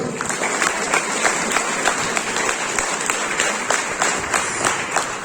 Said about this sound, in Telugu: మీ అందరికీ ఒకసారి గట్టిగా చప్పట్లు